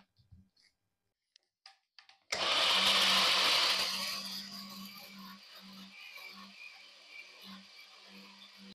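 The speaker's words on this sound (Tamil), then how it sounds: "இப்போ இதை மூடிட்டு நல்லா பிளெண்ட் பண்ணி எடுத்துக்கலாம்." A blender whirs loudly at full speed, churning mango pulp, milk and two scoops of vanilla ice cream into a milkshake, the roar easing into a steadier grind with a low pulsing hum before stopping.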